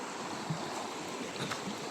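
River water rushes steadily at a campsite crossing on Mt Lawad in DRT, Bulacan, a constant close hiss of flowing current with no voices.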